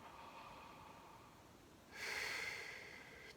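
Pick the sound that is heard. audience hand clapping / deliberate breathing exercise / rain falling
deliberate breathing exercise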